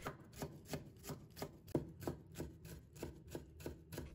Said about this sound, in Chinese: 再准备半个红辣椒，把它切成丝。 再切成小粒。